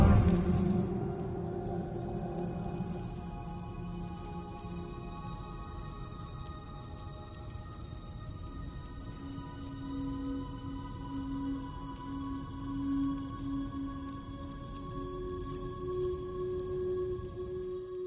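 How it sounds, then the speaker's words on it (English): Steady rain pattering in the Death Stranding 2 video game, a continuous soft hiss of falling raindrops with faint tonal ambience in the background and no voices. "Those raindrops are falling on my head."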